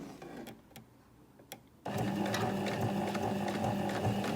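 A sewing machine stitching a twin needle hem starts after a few quiet clicks and then runs in a steady, close mechanical whir for a couple of seconds.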